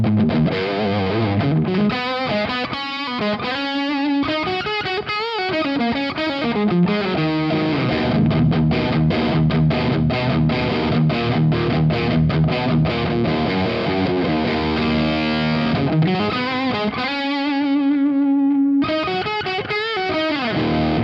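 Electric guitar through a Rat distortion pedal stacked with a Laney pedal at a low-gain setting, gritty riffs and ringing chords played steadily and loud at close range, with short held notes and no voices.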